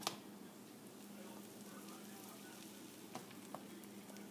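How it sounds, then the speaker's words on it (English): A steady, soft sizzle of a cheese sandwich grilling in a hot pan, with a couple of faint pops, and no talking. "That nice little grill, little bit of sizzling."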